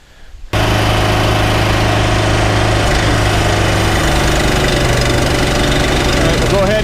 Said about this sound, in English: We are moving the log loader without anything being attached to it